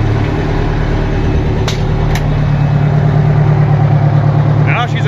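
A lifted 4x4 fire truck's Detroit diesel idles steadily and close, a deep loud rumble with a couple of brief sharp clanks and some faint chatter near the end.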